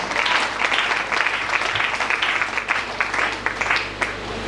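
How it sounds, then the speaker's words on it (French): A church congregation at a worship service breaks into loud, sustained applause, a dense wash of clapping hands filling the room for several seconds with no clear speech over it. "Acclame très fort pour la parole de Dieu."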